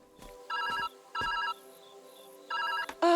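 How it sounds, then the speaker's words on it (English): A telephone rings in the game Viewfinder, with three electronic trilling bursts separated by short gaps, each bracketed by soft clicks, and a brief tone at the end. "The phone?"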